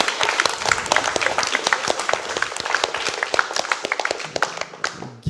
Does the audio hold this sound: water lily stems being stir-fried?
no